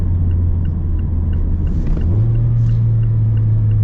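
A 2025 Mazda Miata Club RF with a manual transmission idles with a loud, close engine rumble, then a quick throttle blip lifts the pitch smoothly before it settles.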